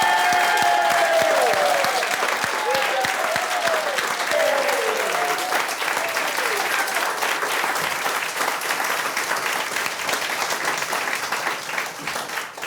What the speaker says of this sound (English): so big round of applause, okay?